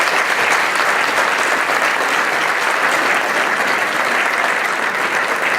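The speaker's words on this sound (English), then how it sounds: "give another round of applause for both these very fine young people" Audience at a Williamson County Chamber of Commerce June meeting applauding steadily, a dense, even wash of many hands clapping at full volume throughout, with no voices standing out.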